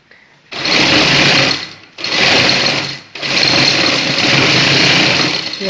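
A sewing machine runs rough stitching on fabric in three loud, fast bursts of rapid mechanical whirring, separated by brief pauses.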